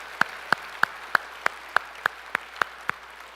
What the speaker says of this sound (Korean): 하나님 앞에 영광의 박수 올리시겠습니다